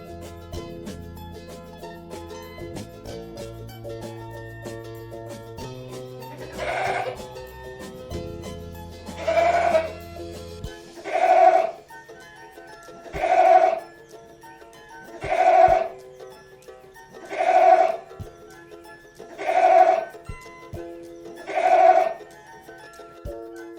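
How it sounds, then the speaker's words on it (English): A goat bleats about seven times at evenly spaced intervals, each cry loud and close, following a short stretch of background music at the start. "goat, goat माने बकरा"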